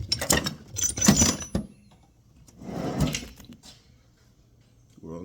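A metal tool drawer in a workshop rattles and slides open and shut while sockets are searched for, with clattering bursts near the start and again midway, close and fairly loud.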